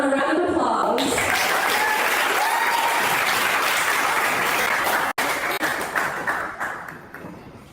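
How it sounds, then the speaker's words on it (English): Audience applause at a performance showcase in Salvador, Brazil, loud and sustained across the room for several seconds, then tapering off toward the end. "Let's give them a round of applause."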